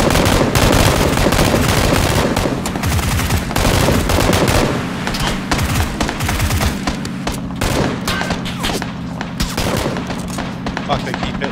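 Dense gunfire in the video game PUBG during a car chase, rapid overlapping shots and bursts, loud and close, tapering over the clip, with a vehicle engine droning underneath.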